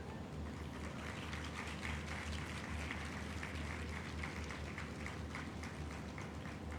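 Steady applause from a convocation audience, a dense even patter of many hands clapping at moderate distance, continuing without a break and with no voices on top.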